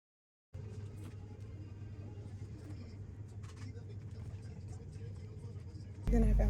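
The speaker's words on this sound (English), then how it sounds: "Now it's time for another drive to our next destination." Steady low rumble of a car driving on a road in Crete, muffled engine and tyre noise heard from inside at a constant level, with a louder jolt at the very end.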